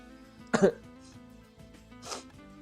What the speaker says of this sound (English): I have cold, so sorry. Sometimes I'm coughing.